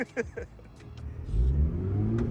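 A Porsche GT3 Touring engine revs hard while the car is out of gear. A deep, rising roar swells up and holds after a brief burst of talk.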